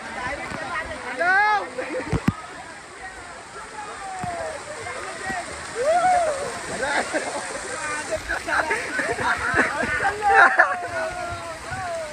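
Water splashes and sloshes steadily at a water park while people shout and talk nearby, the watery wash running continuously beneath the voices.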